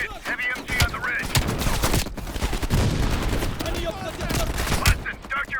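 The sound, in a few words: heavy machine gun firing from a ridge, Call of Duty Cold War video game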